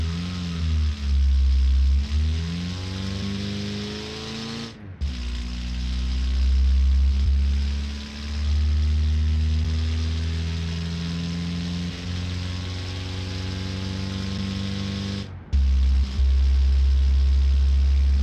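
A 1955 pickup truck in BeamNG runs loud and near. The engine holds a steady droning rev, rises and falls through a couple of throttle swells, and cuts out sharply twice before roaring back.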